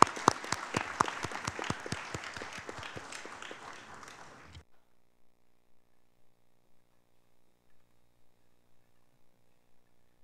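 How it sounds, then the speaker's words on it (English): Applause from a panel discussion audience, a burst of clapping that fades and stops after a few seconds, followed by near silence. "I want to recognize our panelists with having a round of applause for all of them"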